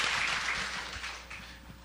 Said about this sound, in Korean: 여러분 이럴 때 박수 해주세요.